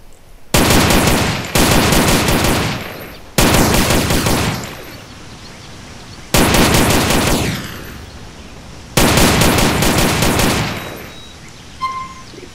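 Modded textured firearm in GTA San Andreas firing in five loud, close bursts of rapid automatic fire, each followed by a fading echo, with short gaps between them and no talking.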